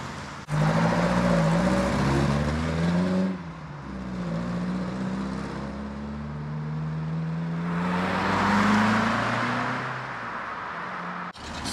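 A Sunbeam Alpine sports car departs from a car meet, its engine note climbing through gears and surging again, loud and near, then fading off as it drives away, with no talk.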